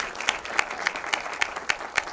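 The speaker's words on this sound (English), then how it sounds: "let's give them a round of applause" An audience at an artist talk applauds, a steady patter of many hands clapping at moderate distance with a few sharper claps standing out.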